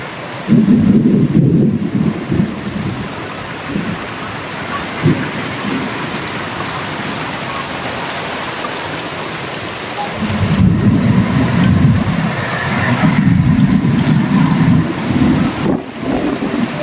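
Heavy rain pours down in Tallapudi amid coconut trees, a dense, loud hiss of drops with rolling thunder rumbling in bursts near the start and again in the second half, wind buffeting the microphone.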